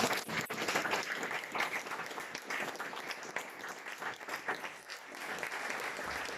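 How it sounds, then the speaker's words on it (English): Sustained applause from an audience after a panel discussion at a science café, a dense wash of many hands clapping steadily throughout, at moderate volume. "everyone just round of applause again for our wonderful panel of experts"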